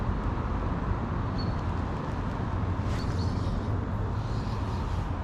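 Steady, loud roar of heavy traffic on one of the country's busiest roads, heard from right beneath a bridge beside the River Almond, a continuous low rumble with no pauses and no one talking.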